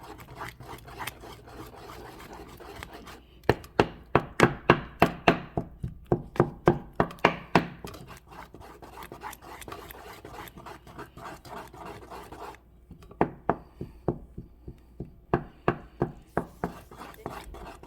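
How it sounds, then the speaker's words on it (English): Leftover rice pudding is stirred and blended in a bowl, giving rhythmic scraping and rubbing strokes. The strokes come in close bursts with brief pauses between them, and no one talks. "Just continue to blend it, mix it really well."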